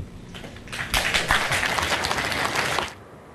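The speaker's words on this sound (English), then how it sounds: "that response was led to a lot of applause from audience members here in attendance tonight" Audience members at a school board meeting break into applause that swells quickly, holds loud and dense for about two seconds, then stops abruptly.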